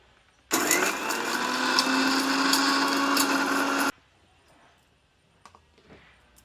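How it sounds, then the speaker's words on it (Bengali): An electric mixer grinder whirs loudly and steadily for about three seconds while grinding dried red chilli and spices, then cuts off abruptly, leaving faint kitchen clatter. "লঙ্কাটা গুঁড়ো করলে কিন্তু খুব জ্বালা করবে, সেই জন্য আমি আজকে মিক্সিতে বেটে নেব"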